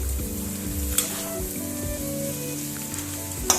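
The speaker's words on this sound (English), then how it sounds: "Now we will add our potatoes. And mix it evenly." Potatoes frying in a pan for a dosa potato sabzi, a steady close sizzle with occasional sharp spatula taps against the pan while being stirred, with a low droning hum underneath and no speech.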